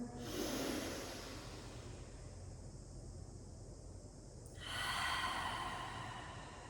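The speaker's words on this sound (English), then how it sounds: "Inhale through the nose, fully, deeply. Exhale, empty." Deep breaths during a yoga session: a long inhale through the nose, then a steady exhale emptying the lungs, heard alone as soft airy rushes with a quieter pause between them.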